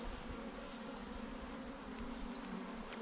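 Honey bees from a strong, healthy colony buzz steadily around an open hive, a dense continuous drone close by with no voices over it.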